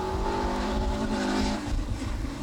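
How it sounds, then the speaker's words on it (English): Engine of a Mark II Escort rally car thrown sideways on a rally stage, a loud, continuous rasping roar at high revs that wavers slightly as the car slides. "the characteristic noise of this Mark II Escort"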